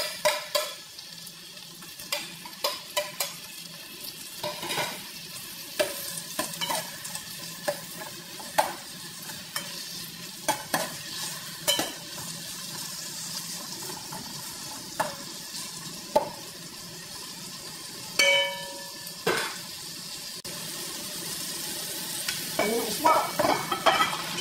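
Tomatoes sauté with ginger and onion in a pan for fish-head sinigang, a continuous soft sizzle broken by frequent scraping, clacking stirs of a spatula, close and moderately loud.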